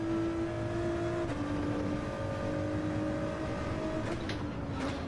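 A race car in a wet-weather racing game holds a steady engine drone that shifts in pitch as it lifts off and coasts into a corner, with a constant hiss of spray and no speech.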